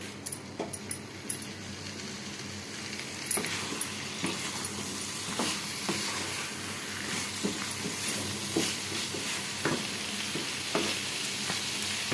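Potatoes frying in hot oil while cooking a prawn curry, a steady close sizzle and hiss with occasional stirring clicks and scrapes throughout, no talk.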